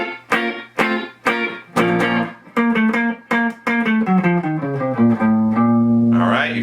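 Guitar plays a harmonic minor line in a classical cadential style, with clear plucked notes in a steady rhythm that move down the scale over a sustained low bass note and end on a held chord.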